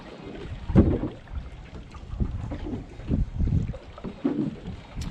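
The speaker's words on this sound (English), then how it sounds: "This wind's picked up and it's pushing us into this rock wall pretty quick." Wind gusting over a small fishing boat near a rock wall while fishing for squid and herring in Cockburn Sound, a steady rumbling buffet with louder gusts rising and falling throughout, close to the microphone.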